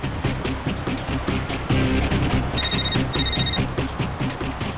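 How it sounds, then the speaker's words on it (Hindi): A phone rings with two short electronic trills over a steady background rumble, like a car interior in motion. "टैक्सी वाले को फोन लगाओ और मुझसे बात करवाओ।"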